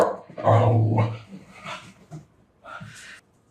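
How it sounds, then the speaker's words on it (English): A watchdog barks and growls indoors in a few short, loud bursts, mixed with a person talking nearby. "my dog is barking"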